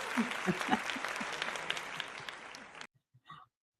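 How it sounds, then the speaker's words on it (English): Applause and cheering from a small group at a birthday celebration within a morning mindfulness circle, steady clapping for nearly three seconds, then cutting off abruptly and followed by a brief voice. "I always did want applause. I just love applause so much."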